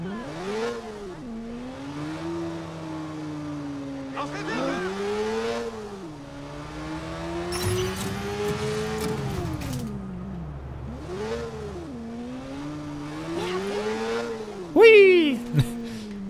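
A sports car engine in Watch Dogs revs up and down repeatedly while driving, each rising and falling whine loud and close. A person talks over the engine, and near the end there is a sharp burst.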